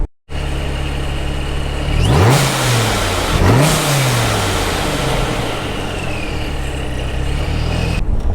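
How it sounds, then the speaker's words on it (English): A supercharged 1,200-horsepower Dodge Viper engine revs up twice in quick succession in fourth gear at about 40 mph, climbing in pitch and falling back, over constant loud road and engine noise. "I'm in fourth gear right now, going about 40 miles an hour. I'm gonna give it a rev."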